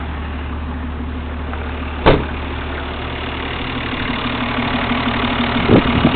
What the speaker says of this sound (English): Now we'll go look at the engine running.